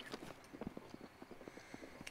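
Horse hooves clip-clopping in the video game Zelda: Breath of the Wild, a quiet, steady walking rhythm of soft repeated hoofbeats with no other sounds over them.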